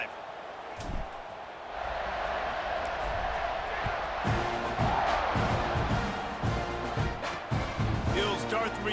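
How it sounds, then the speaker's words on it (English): A stadium crowd at a football game roars in a continuous broad wash of cheering, while a commentator talks over it. "Crowd is feeling themselves after that last drive."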